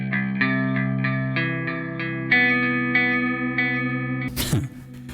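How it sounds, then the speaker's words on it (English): Clean electric guitar notes ring out with echoing delay repeats trailing each phrase, steady and sustained, ending in a short burst of noise. "it's basically just a standard clean sound with a delay"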